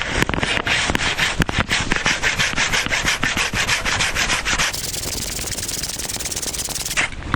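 Hand saw cutting through a log outdoors on a winter hike, a steady rhythmic back-and-forth rasping of strokes, loud and close, continuing without pause to the end.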